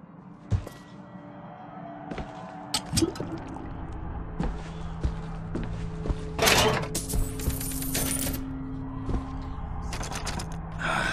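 A door lock is picked in the Bioshock Infinite video game, with small metallic clicks, ratcheting mechanism noises and a louder clunk near the middle over a bed of game ambience and a faint tonal hum.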